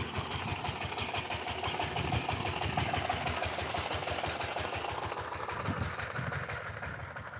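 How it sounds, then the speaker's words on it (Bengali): A power tiller's engine runs steadily while ploughing a farm field, producing a loud, continuous rapid chugging that stays close and even throughout. "পাওয়ার টিলার দিয়ে কীভাবে জমি চাষ করা হয় এই মুহূর্তে আপনাদেরকে দেখাবো"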